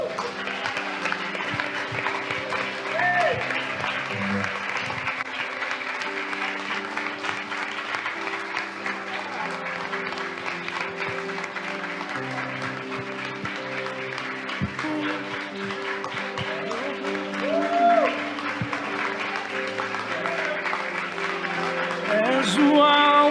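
A church congregation applauds steadily and at length, a dense wash of clapping that carries on throughout while music or singing rises and falls beneath it.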